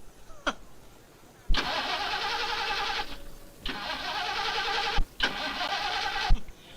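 An old car engine cranks repeatedly, with loud grinding bursts broken by short pauses and sharp clunks, struggling to catch and start.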